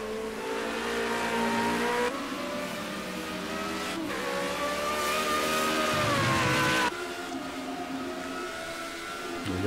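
F1 2017 race cars in the video game, high-pitched engines droning and shifting pitch as one car pulls alongside and overtakes, steady and fairly loud throughout.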